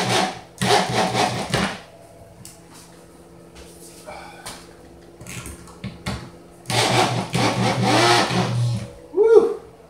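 A power drill drives a large bolt into a boat under construction, whining in two long strained bursts with shorter intermittent pulses between them, loud and close, with a brief exclamation near the end.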